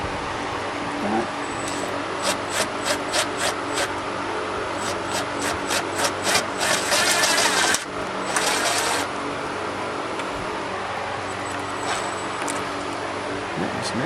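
A screwdriver drives a self-tapping screw during an electric water pump install on a 1994-96 Impala SS, giving up-close bursts of rapid clicking and rasping with short pauses in between.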